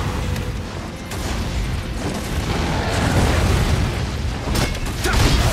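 A grenade blast in the Nioh video game: a dense, loud, rumbling burst of noise that holds steady across the stretch and swells again near the end, with no talk.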